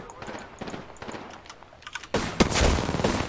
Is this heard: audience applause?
no